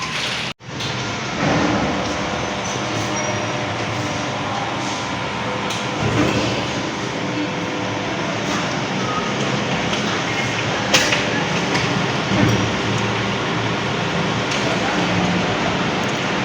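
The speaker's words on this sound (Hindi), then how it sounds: "ये आप देख सकते हैं कि तेज़ बारिश शुरू हो चुकी है" Heavy thunderstorm rain pours in a dense, steady roar, opening with one sharp knock. Faint voices sit low underneath.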